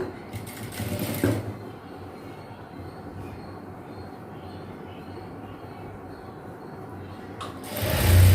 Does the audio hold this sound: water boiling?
no